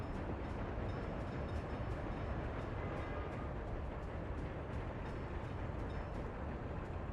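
A food train rolls along in the Workers and Resources city-building game, a steady low rumble with faint regular clicks of rail joints, continuous and fairly quiet, no talking.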